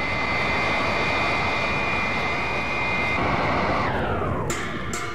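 Jet-like aircraft roar of a robot plane flying to meet an alien ship in a 1977 vinyl record audio drama, a loud steady whine that slows and drops in pitch toward the end, alone without voices.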